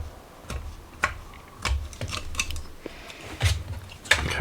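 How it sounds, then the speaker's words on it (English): A craft knife scrapes a hard plastic Primaris Deathwatch Lieutenant miniature in short, separate ticking strokes, close up and fairly quiet, about eight scrapes spread irregularly over a few seconds. "little bit of scraping"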